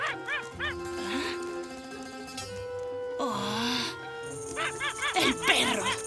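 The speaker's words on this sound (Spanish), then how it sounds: "El perro." Dog barking and yipping several times in short bursts amid music and other animated sounds, moderately loud.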